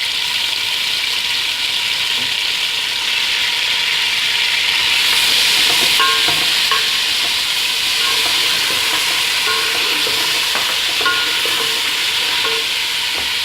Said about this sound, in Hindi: हम 1 चम्मच अदरक लहसुन का पेस्ट डाल रहे हैं।